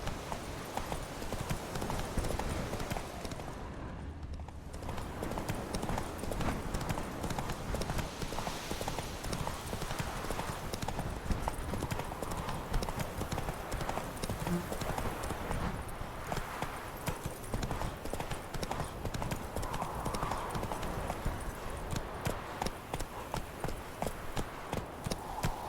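A horse's hooves clip-clop steadily on the ground during riding in The Witcher 3: Wild Hunt, a continuous close rhythmic trot with faint background sounds throughout.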